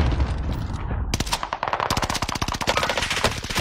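Rapid automatic gunfire in a Warzone match, one sustained burst of closely spaced loud shots that starts suddenly and runs to the end.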